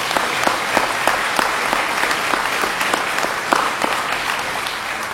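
A crowd at a Les Patriotes public political meeting in Honfleur, Normandy, applauds with dense, steady clapping that continues evenly for several seconds without pause.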